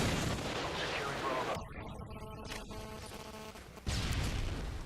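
SPAS shotgun blasts from Call of Duty Modern Warfare 2, heavy booming game gunfire filling the mix in a dense burst, pausing briefly, then resuming, with a voice talking over it.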